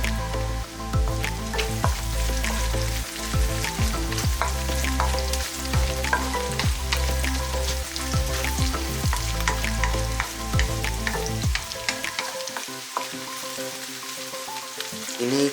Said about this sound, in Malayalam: മൂന്ന് പച്ചമുളക് ചോപ്പ് ചെയ്തത് ചേർത്തിളക്കുക.